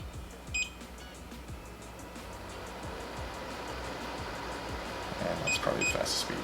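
A SmartMi P1 air purifier fan blows a steady broadband whoosh that swells slightly louder toward the end as the speed changes, with short electronic beeps near the start and again near the end.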